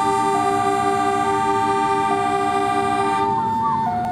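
A loud, sustained locomotive horn blast, the departure signal of Indonesia's Probowangi train, holds a steady chord for several seconds, its pitch shifting slightly near the end.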